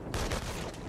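Burst of gunfire from the PS4 game inFamous: Second Son, a loud crackling volley with sharp repeated shots over a dense game soundscape, heard alone without talk.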